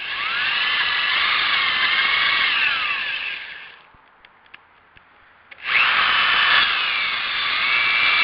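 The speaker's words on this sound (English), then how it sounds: "So I just used a drill bit." A power drill whines loudly in a long steady burst drilling through the metal shaft of a Wheel Horse tractor steering arm, falls quiet for about two seconds with a few small knocks, then starts again at full speed.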